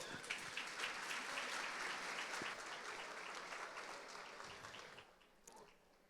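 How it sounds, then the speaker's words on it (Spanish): A crowd at a family church convention applauds warmly, dense sustained clapping from many hands that gradually fades out near the end. "La recibimos con un aplauso, por favor"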